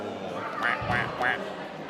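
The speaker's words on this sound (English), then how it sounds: "we got a little Disneyland duck. Her head moves back and forth when you push in on little wings" A small Disneyland duck prop gives three squeaky quacks as its wings are pushed in, close by, with a voice speaking around it.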